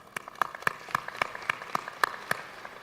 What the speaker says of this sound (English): Let's first give a round of applause.